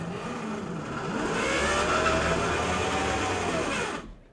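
A 2025 Toyota Camry AWD pulls away hard from a stop with the traction control off. Its front wheels spin as the engine revs, making a steady loud rising whine and roar that builds and then cuts off sharply at the end.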